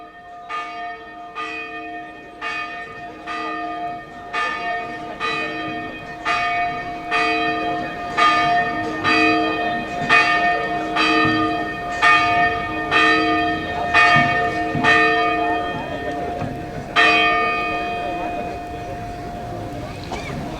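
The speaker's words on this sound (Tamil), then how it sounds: "மாதா கோயில் மணி ஓசையாக இருந்தாலும்" Church bells toll steadily, a long series of evenly spaced clangs with resonant ringing overtones, loud and fairly close, with faint background noise.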